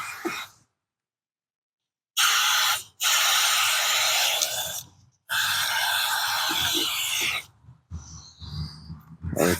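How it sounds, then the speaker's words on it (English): Chain lube hisses from an aerosol can onto the chain of a 1994 Suzuki Katana motorcycle in three close, loud sustained sprays, each lasting a second or two, followed by faint rustling. "let's put some chain lube on it"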